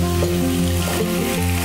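Chopped onions hit a hot pan with a lemon butter sauce for chicken steak and sizzle loudly and steadily at close range, with no talking.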